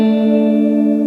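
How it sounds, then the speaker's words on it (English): A guitar widened with a Waves stereo imager rings out as one sustained, bright chord with effects, steady and loud throughout, heard alone. "With it I'm just making the guitar sound wide to separate it even more from the vocals"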